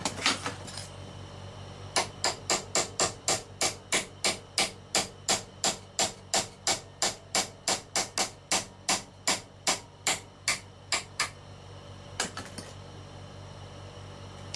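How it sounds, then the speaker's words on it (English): Steady metal-on-metal hammer strikes on a chisel cutting a stubborn head on a Dinky Joe 90 die-cast toy, about two dozen evenly spaced sharp clangs in a run, with a few scattered blows before and after, close by. "The head is too strong and won't chisel easily"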